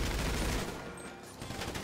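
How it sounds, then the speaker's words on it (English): Gunfire in the video game GTA Online, a loud burst of rapid shots at the start that then fades to quieter distant firing and background noise. "They're shooting at me right now"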